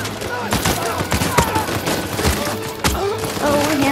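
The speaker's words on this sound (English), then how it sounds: "Whoa, grenade launchers?" Rapid bursts of grenade launcher and gunfire in the game Uncharted 4, with booming thuds and crackling shots firing repeatedly over a few seconds, loud and close, with a voice speaking over parts of it.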